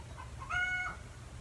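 A backyard chicken outdoors gives a single drawn-out clucking call over a low background rumble, fairly distant and heard alone.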